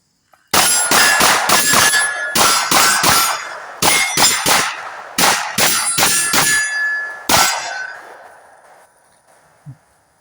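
A Smith & Wesson M&P 2.0 Carry Comp Metal pistol firing a string of about fifteen loud, sharp shots in quick bursts at an outdoor range, with brief pauses between groups and ringing decay afterward.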